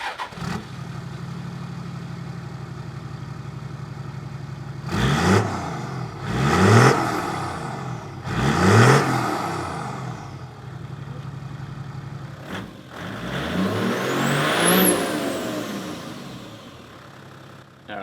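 A Toyota 80 Series with a 1HD-FTE diesel engine idles, then revs up three times in a row with a gruff, close rattle. After a pause it revs again and rises to a whining high pitch.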